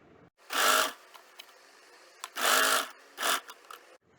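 A sewing machine runs plain straight stitches along a folded fabric casing in three short close bursts, two longer and one brief, separated by quiet pauses.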